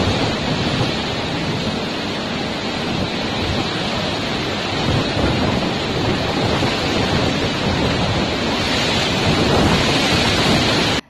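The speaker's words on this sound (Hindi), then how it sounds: "तेज हवाओं के साथ कई जगहों पर भारी बारिश भी हो रही है।" Heavy rain and strong wind from Cyclone Fani in Odisha roar as a loud, unbroken wash of noise that holds steady throughout before cutting off abruptly at the end.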